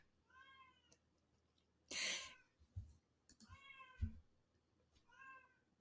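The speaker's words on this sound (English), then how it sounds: "Did you hear that cat?" A cat meows three times at a quiet level, with short gaps between the calls and a brief burst of hiss and a few soft thumps mixed in.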